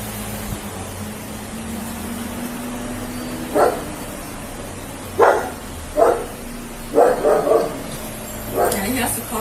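A puppy barks in short separate bursts, several yaps spread across the moment, over a steady air-conditioning hum, with people talking nearby.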